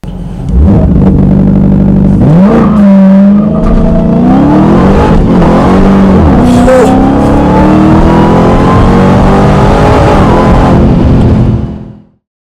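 A Dodge Charger Hellcat Redeye, a 797-horsepower supercharged muscle car, launches hard from rest through 0-60, its loud engine roar climbing through several rising gear pulls before cutting off abruptly near the end.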